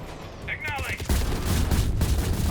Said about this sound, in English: I'm all for a good explosion, but this is getting excessive.